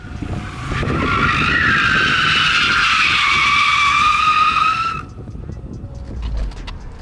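A car drifting on a track at a driving school, its tires giving a loud, sustained skidding squeal for about four seconds before cutting off, leaving engine noise and faint track ambience behind.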